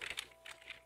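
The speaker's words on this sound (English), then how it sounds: "Does my keyboard work?" Fingers tap a computer keyboard in a short, quiet burst of a few uneven keystrokes, with no speech.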